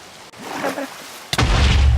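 A creeper in a video game explodes with a sudden loud boom about midway, following a stretch of low rumbling noise and a faint voice.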